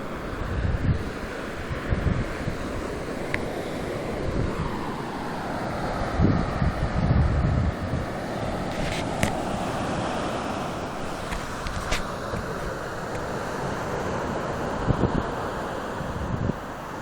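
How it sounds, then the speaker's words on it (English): Waves break on Jupiter Beach, Florida at night, a steady surf roar mixed with wind buffeting the microphone, with swells and several crashing peaks, no talking. "you can hear the waves crash"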